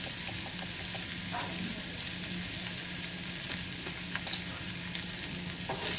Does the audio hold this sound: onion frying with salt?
yes